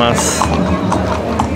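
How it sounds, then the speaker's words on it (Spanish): Horses' hooves clip-clop on a town street during a traditional cabalgata horse parade in Arandas, Jalisco, heard steadily beneath continuous talk and crowd noise. "No podían aguantar tantos caballos"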